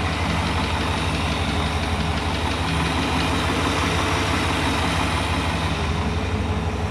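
A carbureted truck engine, newly converted from TBI, idles steadily and loudly, a constant rumbling drone with a slight rhythmic chug throughout, no voices.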